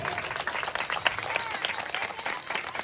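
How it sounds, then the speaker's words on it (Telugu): Audience applause rings out at an Ayyappa pooja gathering, a dense, steady wash of many hands clapping together for about three seconds with no break. "అందరూ కూడా గట్టిగా చప్పట్లు కొట్టాలండి"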